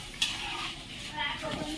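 Spoon stirring thin onion-greens bhaji in a pan over low gas, with a soft steady sizzle and a few scraping clinks of utensil against the pan, close and fairly quiet.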